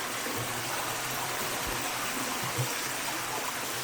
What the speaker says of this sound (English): Well, this is the last water crossing.